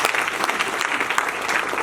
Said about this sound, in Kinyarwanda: mwabampereye amashyi y'ababyeyi bacu